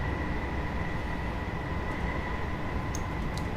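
Class 319 electric train running in Train Simulator 2019 on a Gatwick Airport route, a steady close cab rumble with a constant hum and faint clicks near the end, no talk.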